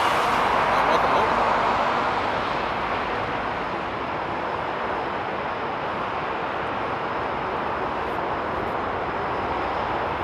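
Lufthansa airliner DLH 457 from Los Angeles touching down at Frankfurt Airport on a frosty day, a steady loud roar of engines and rushing air that holds for the whole stretch, with a voice talking over it.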